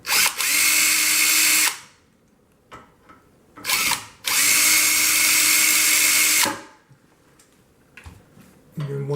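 A power drill unscrews an aluminum bracket on a Creation ProCut CR series vinyl cutter, running in two loud, close whirring bursts with a short blip between them and quiet clicks of handling in the gaps.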